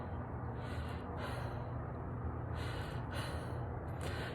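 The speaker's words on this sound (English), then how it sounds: "You see I exhale." A person breathing out while wearing a mask fitted with an extension piece for cold air makes long, breathy exhalations that swell and fade a few times, close and soft with a steady hiss underneath.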